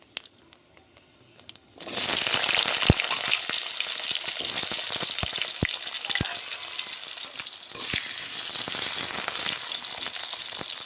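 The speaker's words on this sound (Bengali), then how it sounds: "আলু ভেজে নিতে হবে প্রথমে" Potatoes fried in oil with black cumin in a kadai, starting after a quiet moment with a sudden loud, sustained sizzle, then steady frying broken by sharp clicks of a spatula stirring, close up, no talking.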